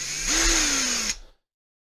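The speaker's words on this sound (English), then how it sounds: "I'm going to get my drill back again. And I'm going to make another mess with the plastic." Close, loud run of a power drill with a quarter-inch bit in plastic, the motor pitch rising as it bites, holding for about a second, then cutting off into silence.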